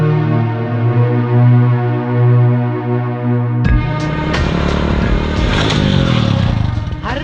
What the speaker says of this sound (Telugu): మీకోసమే స్పీడ్ గా బైక్ మీద వస్తుంటే నేను కనిపించాను